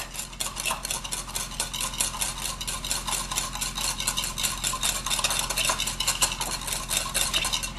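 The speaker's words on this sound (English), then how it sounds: "we're just going to whisk this together" Steady, busy whisking of a creamy salad dressing in a bowl, a continuous rapid clatter of whisk against the sides, close up and without voices.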